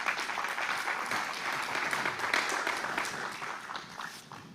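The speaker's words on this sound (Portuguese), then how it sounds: "Pode aplaudir a pessoa de Jesus." Church congregation applauding steadily as a sustained wash of clapping, fairly even throughout and thinning slightly toward the end.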